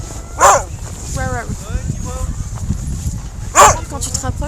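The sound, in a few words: dog barking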